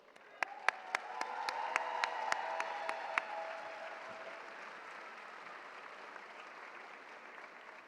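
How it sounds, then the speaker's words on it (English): Crowd at a Bryant & Stratton College commencement ceremony applauds families and friends: a few sharp near claps at first, then a swelling wash of applause that gradually fades, with a sustained tone lingering in the hall. "please stand and join me in applauding the families and friends who have supported our graduates"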